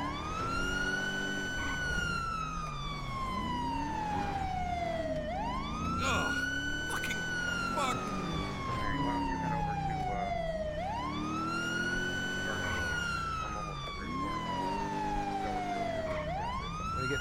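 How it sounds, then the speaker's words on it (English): A police car siren in the video game GTA V with the LSPDFR mod wails in long, slow rising and falling sweeps that repeat about every five seconds, loud and continuous over engine and traffic noise. "I don't really need to be going lights and sirens"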